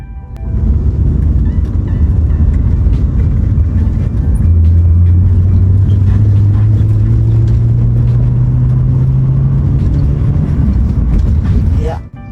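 A Honda Accord VTL pulls hard through the gears, its engine note rising steadily in pitch as it accelerates, loud and close from inside the cabin with road rumble beneath and people talking over it.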